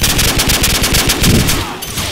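Rapid automatic gunfire from a Call of Duty match, a dense burst of close, loud shots in quick rhythmic succession that breaks off near the end.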